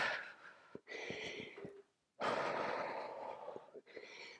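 Heavy, breathy exhales and inhales follow a sprint interval workout, with long airy sighs separated by a brief silence and small mouth clicks, close up and with no words.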